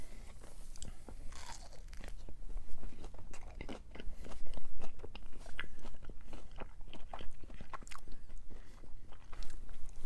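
Someone bites into a mozzarella stick topped with horsey sauce, followed by close, continuous crunching and wet chewing with irregular mouth sounds throughout.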